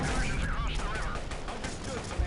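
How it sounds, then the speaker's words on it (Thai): Pistol gunfire in the video game Delta Force: Black Hawk Down, firing fast like an automatic weapon in a dense, continuous burst amid the noise of combat, with a voice over it. "ปืนสั้นยิงอย่างกับปืนรัว"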